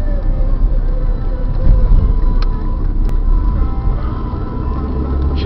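Steady low road rumble and engine drone from inside a car driving to Old Country Buffet in West St. Paul, continuous and moderately loud with faint higher whines, no talk.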